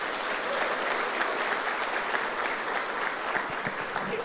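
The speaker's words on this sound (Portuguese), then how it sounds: "Dá uma salva de palmas para ele" A church congregation at a conference applauds, a dense, even clatter of many hands clapping together for several seconds without a pause.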